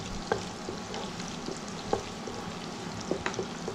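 Green cardamom pods and small pieces of cinnamon stick sizzling in butter in a pan, a steady close crackle with occasional sharper pops and no talking.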